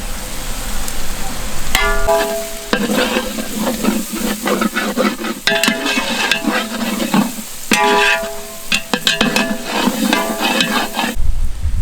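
Onions for duck biryani fry in a pan, hissing and crackling under repeated metal spoon scrapes and clinks as they are stirred, loud and close throughout.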